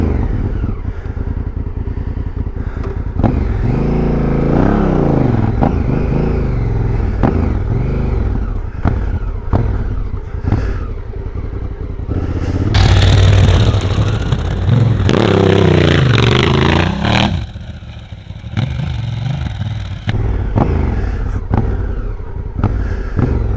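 A Honda Africa Twin motorcycle on aired-down tires accelerates off-road through dirt, its engine loud and close, revving up and down repeatedly with a harsh, surging burst in the middle and clattering from the terrain.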